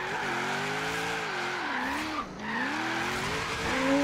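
Car drifting in Forza Horizon 3 on a street course, played on a Logitech G920 wheel, with a continuous loud tire squeal that bends up and down in pitch over the engine drone, briefly dipping midway before rising again.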